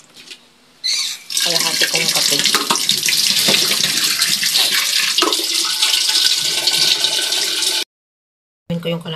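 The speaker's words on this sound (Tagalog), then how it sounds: "Tubig." Water runs steadily from a tap into a basin at close range, loud and continuous for several seconds, then stops abruptly; no talking is heard over it.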